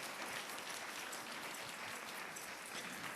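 Steady applause from a church congregation at a prayer school graduation ceremony, fairly quiet and distant, filling the whole stretch with dense, even clapping and no voices.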